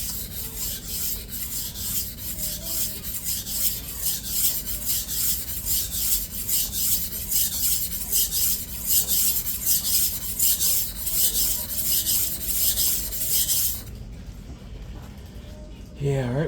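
An S35VN steel 8-inch Fantiso chef knife is sharpened on a fast-cutting vitrified whetstone, with a continuous close, rhythmic gritty rasping of repeated strokes that stops near the end.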